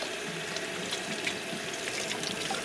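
Tap water runs steadily in a continuous hiss and splash while giant purple lettuce is washed in a sink, close and fairly loud throughout with no talking.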